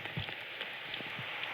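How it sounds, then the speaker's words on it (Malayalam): Rain falling in the Minecraft video game, a faint steady hiss of pattering drops with scattered soft taps, continuous and distant-sounding, no voices. "മഴയുണ്ട്"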